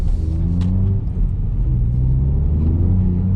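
A remapped Ford Fiesta ST accelerates hard in second gear as its front tyres spin. Heard from inside, the engine gives a loud, constant, deep drone whose pitch climbs, with road rumble beneath it.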